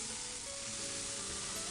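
Food sizzling steadily in a frying pan greased with mayonnaise instead of oil, in a visual-novel game scene with rice, crab meat and radish; a continuous close, even crackle with no voices.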